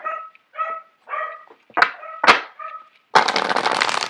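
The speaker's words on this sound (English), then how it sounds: "I apologize for the dogs barking in the background" Dogs bark in the background in a series of short yips and barks, loud and fairly close. A longer burst of rustling noise follows.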